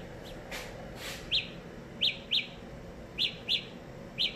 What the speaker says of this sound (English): it plays a really, really loud chirping sound until you find that earbud